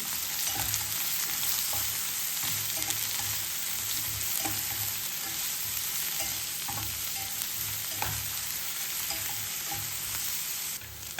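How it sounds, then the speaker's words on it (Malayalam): Onions and four dried red chillies sautéing in a pan for an onion-chilli chutney, a steady close sizzle throughout with repeated soft scrapes and clicks of a spoon stirring. "ഇതിലേക്ക് ഒരു നാല് ഉണക്കമുളക് കൂടി ഇട്ട് കൊടുക്കുന്നുണ്ട് എരിവിനനുസരിച്ചിട്ട് ഇട്ട് കൊടുക്കാൻ മതി കേട്ടോ ഇതൊന്ന് വഴറ്റിയെടുക്കാം"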